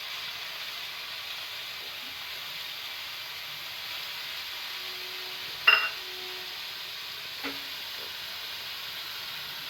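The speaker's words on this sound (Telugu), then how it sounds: "3 స్పూన్స్ చింతపండు రసాన్ని తీసుకొని వేయాలి." Tamarind juice is spooned into bitter gourd frying in a pan. A steady low sizzle runs throughout, with a sharp burst of hissing midway and a smaller one shortly after.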